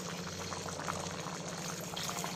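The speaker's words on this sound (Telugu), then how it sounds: "కోడిగుడ్ల పులుసు చూడండి చక్కగా ఉడుకుతుందో" A pot of egg pulusu at a rolling boil, steady dense bubbling heard up close for a couple of seconds with no voices.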